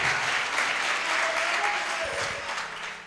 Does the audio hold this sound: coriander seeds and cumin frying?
no